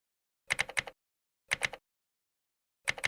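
Three short bursts of computer keyboard typing, each a quick cluster of three or four crisp key clicks separated by about a second of silence, close and fairly quiet.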